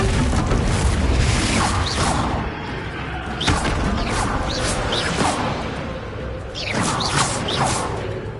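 Confringo blasting spells in a Harry Potter video game burst repeatedly, each a loud booming crash with a whooshing tail, following one another in an irregular run over steady background noise.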